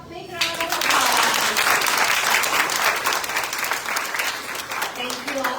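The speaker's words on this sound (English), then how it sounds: "let's give them a big round of applause." An audience gives loud, sustained applause after students perform at a Krishna Janmashtami celebration; the clapping starts abruptly after a brief voice and carries on densely, with some voices mixed in.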